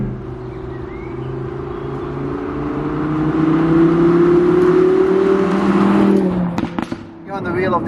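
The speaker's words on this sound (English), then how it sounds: "the sound it makes on the downshifts, you get that real nice blip" An Audi R8 5.2 V10 Plus engine drones loud and close, its note climbing steadily under load, then cuts off abruptly with a quick throttle blip and crackle on the downshift.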